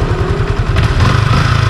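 A Yamaha Sniper 155 motorcycle from 2024 idles close by with a steady, even low throb and a light mechanical clatter, running alone with no talk over it.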